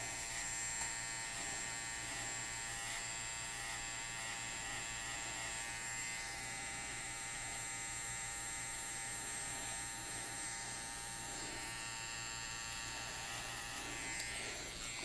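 Electric clippers buzz steadily at a barber's chair while trimming off excess hair, a close, continuous hum with small changes as the blades move through the hair.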